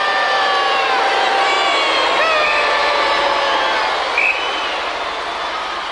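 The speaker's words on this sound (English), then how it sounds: "the crowd are giving him the bird" Large arena crowd jeering and booing during a Gladiators competition heat, a loud, dense, unbroken roar of many voices that eases slightly near the end.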